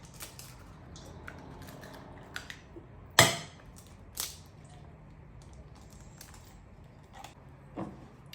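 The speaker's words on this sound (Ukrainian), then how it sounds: "далі беремо більшу миску, вбиваємо два яєчка." A sharp crack of an egg against a hard edge as two eggs are cracked into a large bowl, followed by a softer tap and a faint later click, in an otherwise quiet room.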